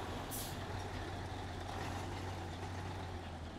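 A MAZ truck driving in the SnowRunner video game gives a steady low engine drone, with a brief hiss like an air brake near the start. The sound is continuous and moderately quiet, and no one talks.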